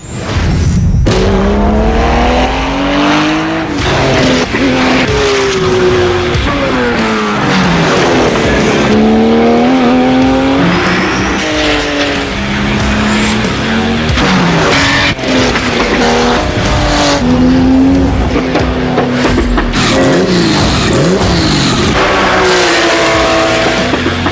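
A Porsche race car engine roars loudly throughout, rising and falling through gear changes, with occasional tire squeal, heard from inside or close by.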